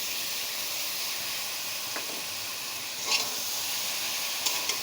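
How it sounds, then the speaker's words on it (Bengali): Mustard and poppy seed paste ground with green chilli sizzles in a hot pan over cumin, a steady close hiss of frying with a few faint stirring clicks and no voices. "তো সর্ষে পোস্তটা দিয়ে আমি একটু কষিয়ে নিয়েছি"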